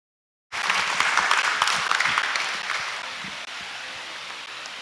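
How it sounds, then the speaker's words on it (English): Audience clapping at a signing ceremony for a university law school agreement, starting abruptly after brief silence, then dense and steady before gradually easing, no speech. "We clap to acknowledge this sign."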